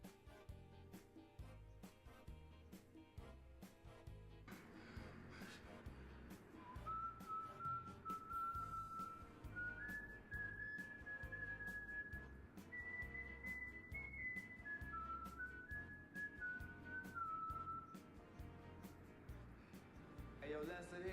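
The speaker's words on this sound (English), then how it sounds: "he always whistled the farmer in the dell before he robbed you" Someone whistles the tune The Farmer in the Dell, a clear melodic line that steps up and down for about fourteen seconds over a busy background of music and voices.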